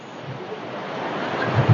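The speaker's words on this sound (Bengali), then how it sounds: "ঢেউ আছে মোটামুটি ঢেউ আছে এটা বঙ্গোপসাগর" Broad, steady roar of Bay of Bengal waves washing on Bakkhali beach in the monsoon, close and fairly loud, swelling slightly toward the end.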